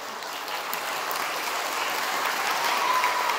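Sustained applause from a crowd of primary school pupils clapping for their teachers at a Teachers' Day assembly, a dense, even wash of clapping filling the whole stretch.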